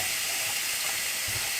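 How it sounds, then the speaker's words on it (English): A pork chop sizzles on a hot Ninja Foodi Smart XL grill, a steady, bright, close hiss with faint low thumps underneath. "Oh, sizzle, sizzle."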